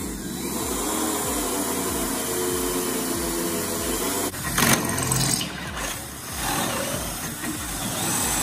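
A power drill bores clearance holes with an oversized bit into a custom wood bed for a Willys Jeep, a steady whirring drone with a brief louder bite partway through, close and without talk.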